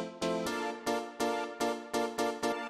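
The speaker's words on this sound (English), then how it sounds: "this is just a choir sample, sort of like one of those old school kind of ones" An old school choir sample in a classic Chicago deep house style repeats as bright, stabbing vocal chords in a steady rhythmic pattern, fairly quiet and alone without speech.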